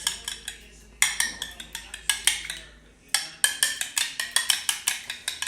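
An egg is stirred into double chocolate Oreo chaffle batter in a bowl: rapid, bright clinks of a utensil against the dish in uneven bursts, close and fairly loud, with a short pause midway.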